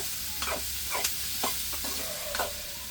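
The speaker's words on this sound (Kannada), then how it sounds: "ಟೊಮೊಟೊ ಒಂದು ಸ್ವಲ್ಪ ಸಾಫ್ಟಾಗಿ ಆಗೋವರೆಗೂ ಅದನ್ನು ಫ್ರೈ ಮಾಡ್ಕೋಬೇಕು ನಾವು" Tomatoes frying in a pan for a paneer gravy, with steady sizzle and several clear stirring scrapes of a spoon against the pan, close and alone with no talk.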